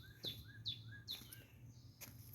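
Several birds perched high on an overhead wire beside a garden give bright, repeated chirps in quick bursts, about four calls in two seconds, clear over a low steady background hum.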